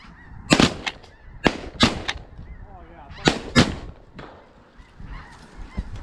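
Gunshots from a bird hunt ring out as sharp, loud reports: a pair, then another pair, then a final pair, with geese honking in between and faint voices underneath.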